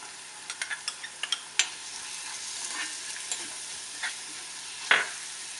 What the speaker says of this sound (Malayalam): ഇനി അതിലേക്ക് കട്ട് ചെയ്ത് വെച്ച ഇഞ്ചി, വെളുത്തുള്ളി, പച്ചമുളക് എല്ലാം കൂടി ഒന്ന് വഴറ്റിയെടുക്കാം